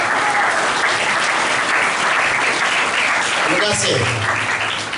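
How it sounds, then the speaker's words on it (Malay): Audience at a scouts' jamboree closing ceremony applauding a strategic partner, steady full clapping throughout, with a voice speaking briefly over it near the end. "Kita beri tepukan kepada rakan strategi pengakap kita, MC Negeri Perak."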